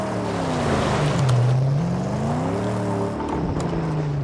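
A vehicle in the Mad Max video game drives with a steady engine drone whose pitch rises and falls as it revs, close and continuous, with no talk over it.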